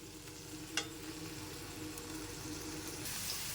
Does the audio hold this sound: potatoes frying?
yes